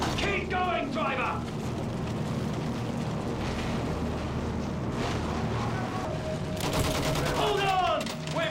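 Machine gun fire in Battlefield 1, a dense rattling fusillade of shots mixed with battle rumble and engine noise, continuous and loud, with shouted voices over it.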